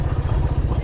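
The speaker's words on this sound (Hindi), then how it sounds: "यहाँ पर मैं अपना बाइक खड़ा करूँगा" A motorcycle engine idles close by on a solo bike tour near a lake while the bike is parked, a short, loud, pulsing low throb.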